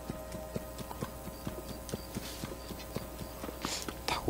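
Horse hooves clip-clop at a steady walking rhythm in the video game Zelda: Tears of the Kingdom, fairly quiet and close, with a few brighter game sounds near the end.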